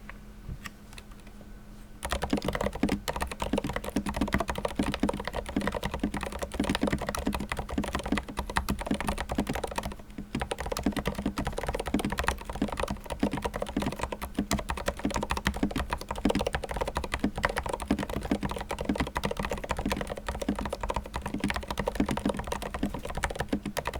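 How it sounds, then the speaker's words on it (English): Steady typing on an iQUNIX ZX75 mechanical keyboard, a fast continuous stream of close, crisp keystrokes running for over twenty seconds after a brief quiet start, with one short pause midway. "let's go with a 30-second typing sample."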